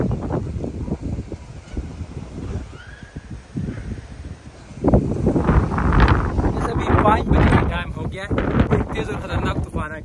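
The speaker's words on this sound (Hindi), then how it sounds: "ऊपर फुल बादल और नीचे साइड पे फुल डस्ट और तेज हवा" Strong wind gusts and roars across the microphone during a dust storm in a Pashtun village in Pakistan, turbulent and loud, swelling harder midway while someone talks over it.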